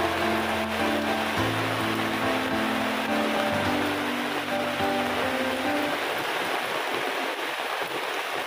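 Heavy rain pours down in a forest where a bull elephant in musth is kept, a dense, steady roar of water with low tonal hums through the first part, no talk.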